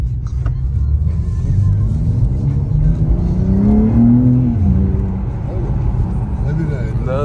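A car engine revs as the driver presses the gas, its pitch rising and falling in a steady drone, with people talking over it.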